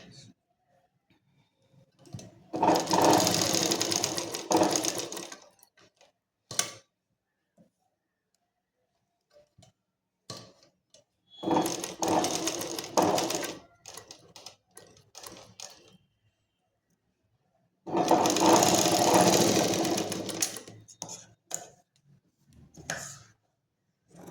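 Domestic sewing machine stitching the rounded collar of a kurti, fabric layers joined beside a canvas strip. Three loud bursts of rapid, even mechanical ticking separated by pauses, with a few short clicks in between.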